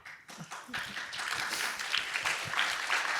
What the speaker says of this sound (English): That would be my son that clapped first.